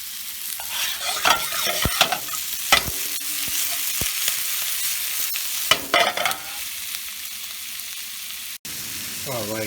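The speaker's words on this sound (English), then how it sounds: "And after that I'm going to add andouille sausage slices." Thin slices of precooked andouille sausage fry with jalapeno in a pan, giving a continuous sizzle punctuated by sharp clinks and scrapes of stirring.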